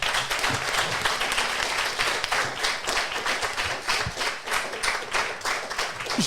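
Crowd applause for a finisher of the 2024 Paris Marathon, dense and steady clapping from many hands with scattered sharper claps, sustained at even loudness throughout with no voices rising above it.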